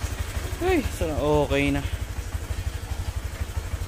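A motorcycle idles with a steady low, rapid pulsing throughout, close by, with a person speaking briefly over it.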